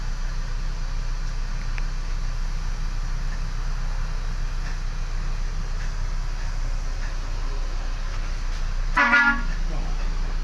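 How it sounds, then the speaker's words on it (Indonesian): A steady engine drone fills the interior of a Hino bus, then a single loud bus horn blast sounds near the end. "Klaksonnya mantap ya?"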